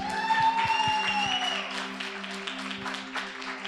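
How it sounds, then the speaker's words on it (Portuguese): A crowd at a church gathering claps steadily, moderately loud, while a sustained tone fades out early and a few louder hand claps stand out. "vou pedir a ajuda de vocês para a gente receber com uma grande salva de palmas a nossa irmã Selena."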